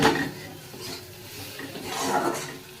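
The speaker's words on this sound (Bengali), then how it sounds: "ডিমগুলো দিয়ে একটু নেড়ে চেড়ে নিই" Eggs are stirred in a cooking pot, with soft scraping and rubbing of a utensil against the metal in a few slow sweeps.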